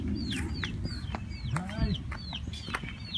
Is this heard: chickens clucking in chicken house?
yes